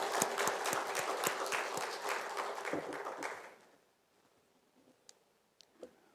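A church congregation claps together in dense, steady applause for a few seconds, then it dies away into near silence broken by a few faint knocks.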